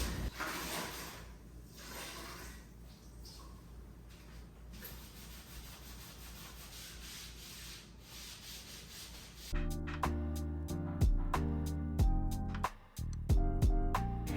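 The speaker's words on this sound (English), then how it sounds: "now I'm just lightly wet sanding before I apply my very first coat over this tape." Steady soft rubbing and scrubbing of a sponge wet sanding drywall joint compound over taped wall seams, continuous and close, before louder clattering and knocking sounds take over near the end.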